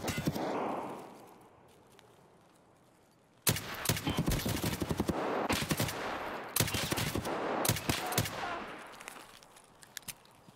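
Rifle gunfire from a designated marksman rifle in the game Escape from Tarkov, loud bursts of rapid shots in several clusters after a quieter stretch, with sharp echoing cracks.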